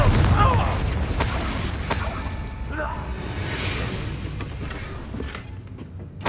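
A Confringo fire spell in Hogwarts Legacy erupts with a sharp boom and shattering crackle at the start, then fades into scattered game effects under voices.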